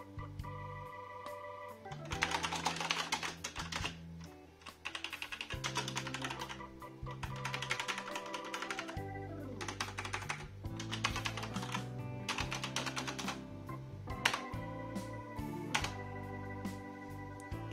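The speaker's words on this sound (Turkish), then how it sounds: "Gördüğünüz gibi arkadaşlar sesi cidden iyi." Rapid typing on a Gamepower Warlock mechanical keyboard with red switches, a dense run of close, loud key clicks and clacks continuing throughout, with brief pauses between bursts and no talk.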